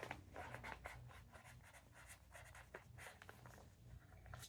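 A pen writing a date on paper: continuous close scratchy strokes in short bursts with brief pauses, quiet and alone.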